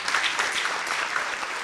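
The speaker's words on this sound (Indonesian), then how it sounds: "boleh minta tepuk tangan buat Muslim" An audience claps steadily for a contestant at a stand-up roasting competition in Medan, a dense wash of applause that stays even and close for the whole moment.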